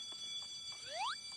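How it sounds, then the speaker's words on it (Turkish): A short rising electronic whoop, an alarm in a Roblox school-escape obby parkour game, sweeps upward twice over a faint steady hum. "Alarm sesi geliyor."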